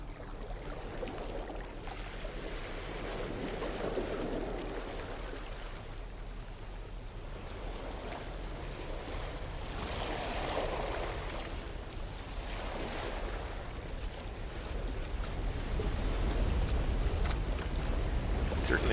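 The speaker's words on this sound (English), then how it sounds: "Certainly sounds like a nighttime sea storm." In No Man's Sky, a nighttime sea storm on an ocean world sends waves surging and crashing in slow swells under steady howling wind, a continuous, moderately loud roar with no voices.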